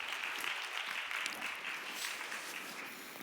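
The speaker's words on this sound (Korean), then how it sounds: "다시 한번 큰 박수 부탁드립니다." Congregational applause at a church young adults' worship service, a steady, even patter of many hands clapping at moderate volume, slowly easing off toward the end.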